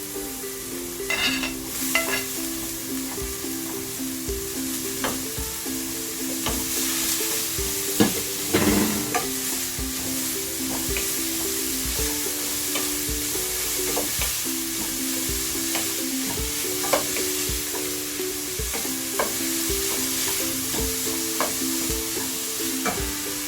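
Grated carrot, chopped capsicum and other vegetables stir-fry in a pan for chicken spring rolls, a continuous sizzle broken by repeated scraping and stirring strokes with no voices.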